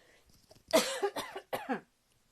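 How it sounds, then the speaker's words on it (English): A short burst of two or three harsh coughs, close and fairly loud, after a faint murmur. "Oh dear, I've got a cough."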